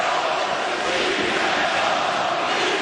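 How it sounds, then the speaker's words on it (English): Fans at a 2020 World Junior ice hockey game between Slovakia and Switzerland raise a dense, steady roar of cheering that fills the arena without a break. "Fans trying to cheer their team on."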